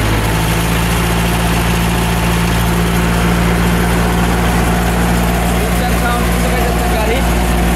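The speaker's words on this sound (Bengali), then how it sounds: "স্টার্ট সাউন্ড শুনতে পাইছেন আপনারা, কোনো ধোঁয়া নাই, ইঞ্জিনে কোনো গ্যাস নাই" A secondhand Tafe 6015 DI tractor with a new battery and fuel pump idles after starting, a loud, close, steady diesel rumble with constant vibration throughout while people talk over it.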